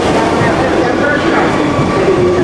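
Underground train at Disneyland Paris rumbling and rattling in a busy station, a steady loud wash of wheel and carriage noise with people talking nearby over it.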